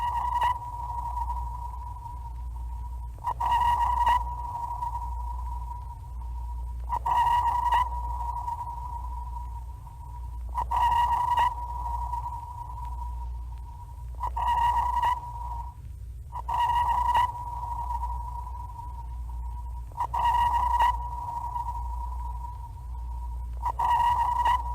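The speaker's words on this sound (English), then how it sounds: "This is the sonar one that was declassified." Declassified sonar recording: a steady pinging tone pulses at regular intervals, repeating roughly every three to four seconds over a constant low rumble, with no voices.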